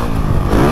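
A Honda CRF 450 dirt bike engine runs loud and close while being ridden, a steady gritty roar with a rough, rapid pulse and no break.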